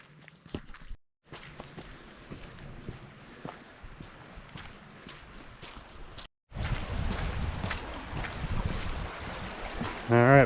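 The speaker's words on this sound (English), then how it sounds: "we got some water flow." Water from Mossy Cave Falls in Bryce Canyon rushes steadily outdoors with gusty wind buffeting the microphone and occasional footsteps crunching nearby.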